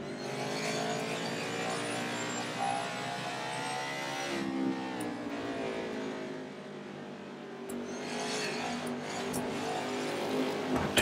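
Race cars roaring through a short-track race in the NASCAR 21: Ignition video game, with a continuous layered engine drone that rises and shifts in pitch as cars run side by side, steady and loud throughout.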